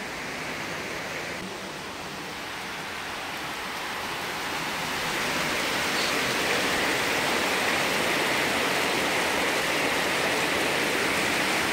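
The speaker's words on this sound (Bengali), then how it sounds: "ভালো বৃষ্টি হচ্ছে।" Heavy rain falls outdoors in a constant broadband hiss, staying full and even and swelling a little louder in the second half, with no voices.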